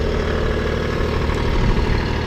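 A tractor engine idles steadily on a steep slope during plowing of a food plot, a loud, close, continuous low rumble with an even mechanical throb and no talk.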